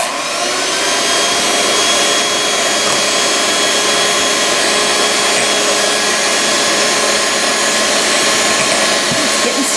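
An electric hand mixer beats sweet potato pie filling in a bowl, a loud, steady whirring drone that runs without a break, alone with no talk.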